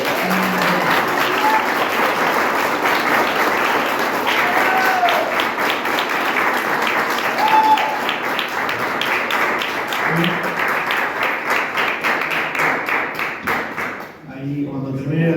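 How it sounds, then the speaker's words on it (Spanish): A church congregation claps together in a steady, sustained burst of applause lasting the whole stretch, with distinct hand claps audible in the mix and a brief dip just before the end. "para que le demos un aplauso, así"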